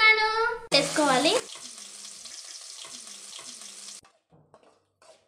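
Onion, green chilli and carrot frying in a pan make a steady sizzle after a loud opening burst of noise. The sizzling fades out toward the end and is followed by near silence.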